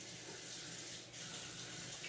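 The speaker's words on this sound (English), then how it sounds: "let me wash up real quick" Hands are washed under a running kitchen tap, a steady close splash of water that carries on without a break.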